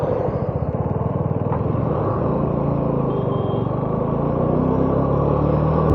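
A 250cc motorcycle engine drones steadily while riding on a road trip to Dharmasthala, Karnataka, giving a loud, even, pulsing rumble from start to finish with no voices.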